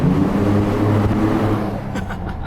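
A Chevrolet ZR2 Colorado with a MagnaFlow exhaust gives a loud, deep, throaty engine drone up close that holds strong, then eases off slightly near the end, with no speech over it.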